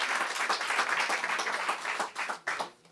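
A congregation in church claps in a dense, sustained round of applause at moderate volume, thinning out into a few scattered claps toward the end.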